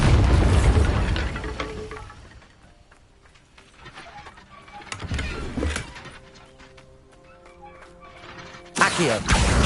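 In the Hogwarts Legacy video game, the Bombarda blasting spell goes off as booming explosions. A heavy blast opens the clip, another bursts around the middle, and a final one hits near the end, with quieter game sounds in between.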